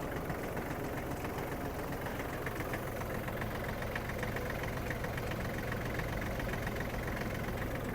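A Kubota GL-25 Japanese mini tractor engine runs steadily in fourth gear, with a constant rattling drone at an even level throughout and no voices.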